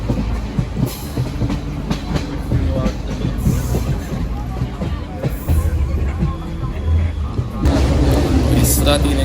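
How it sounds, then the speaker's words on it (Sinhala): A passenger train travels the line toward Badulla from Kandy in Sri Lanka, its carriages clattering and rumbling steadily up close, with intermittent wheel squeals and a background murmur of people talking. "ට්‍රේන් එක නුවරින් හරවල තමයි ආයේ බදුල්ල පැත්තට යන්නේ"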